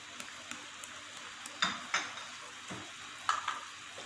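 Sauce with sugar and black pepper being stirred in a pan, giving soft scraping and a few light clinks of a spoon against metal, close and fairly quiet, with no talk.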